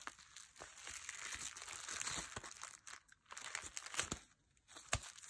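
Delivery sticker sheet being handled at a desk, quiet close crinkling and rustling of paper with scattered small taps and crackles.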